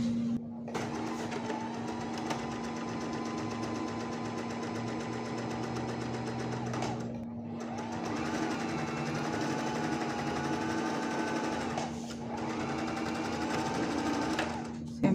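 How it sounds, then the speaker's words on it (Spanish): A sewing machine runs a straight seam along a blouse sleeve in long steady bursts with brief pauses between them, a close mechanical whir with no talking. "voy a llevar directo a la máquina para pasar costura recta y luego overlock a lo largo de todo esto"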